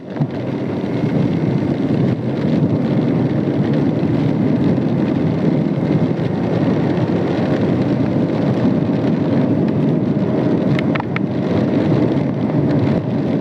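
Monsoon rain pours during a ride along a muddy, foggy forest road, a dense steady roar of rain and wind rushing over the microphone, loud and unbroken from start to finish.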